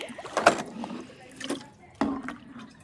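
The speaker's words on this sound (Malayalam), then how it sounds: "വെള്ളം ഒഴിച്ചു കൊടുക്കുക" Water splashes down onto a plant in a few short, uneven bursts, close by, with soft dripping and quiet gaps between pours.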